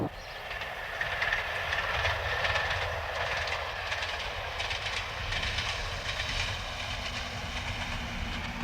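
A 1960s passenger train runs along a railway line, a steady loud rumble with faint rhythmic clickety-clack from the wheels on the rails, continuous and close throughout with no talking.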